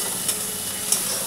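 Onion, garlic, green chili and tomato paste sizzling and spitting in hot oil for a katla fish curry, a steady close frying hiss with two brief sharp pops and no voices.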